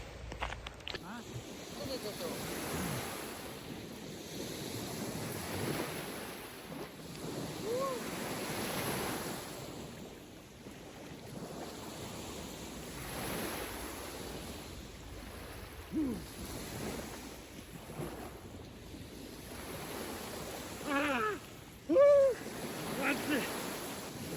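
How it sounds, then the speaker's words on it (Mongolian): Baltic Sea waves wash in with a steady rolling surf and gusty wind buffeting close by, with occasional voices in the background. "За энэ жил болохоор Балтийн тэнгис дор доо."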